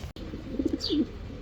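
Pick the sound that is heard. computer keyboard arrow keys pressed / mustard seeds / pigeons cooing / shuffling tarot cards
pigeons cooing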